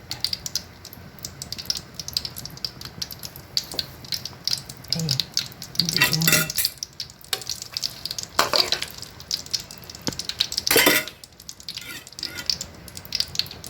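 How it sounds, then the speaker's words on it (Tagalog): Turon, sweetened banana rolls, frying in oil with a steady bubbling sizzle broken by clattering scrapes and knocks of a utensil against the pan, close and moderately loud, with no talking. "Palayo sa'yo yung piniprito nyo."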